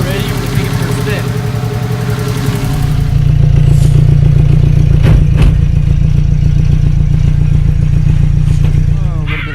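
A turbocharged car revs and runs hard on a test drive, a loud steady engine drone with clattering mechanical rattle that swells after a few seconds; voices are present under the engine.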